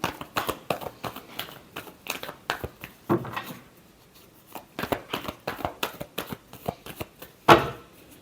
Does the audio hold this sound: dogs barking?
no